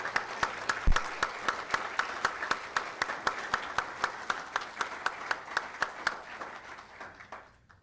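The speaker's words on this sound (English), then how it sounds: "Let's give our graduates another round of applause." Clapping rings out in a hall at a Hodges University nursing graduation ceremony, a steady, evenly paced beat of claps that gradually fades away.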